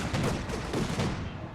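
Machine gun fire from a Company of Heroes 2 battle rattles in a dense, sustained burst, moderately loud and muffled by rumbling battlefield noise.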